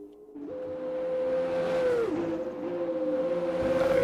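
An F2 race car in a racing video game screams down the straight on the Canada circuit, its high engine whine rising steadily, dipping briefly at a gear change, then climbing again, loud and alone.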